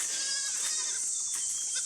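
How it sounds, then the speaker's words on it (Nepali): Young goats bleating repeatedly in a hilly, forested rural area while their mother is away grazing, with several overlapping high wavering calls close by over a steady background. "यिनीहरूको माउ चर्न गएको छ नि कराइराखेको छन् यसरी"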